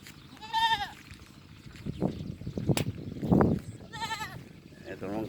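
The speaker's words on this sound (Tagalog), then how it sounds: "Ito naman kambing na to." Goats bleat on a farm in Pangasinan beside dragon fruit plantings, several loud wavering calls near and far across a few seconds, with people talking and handling noises in between.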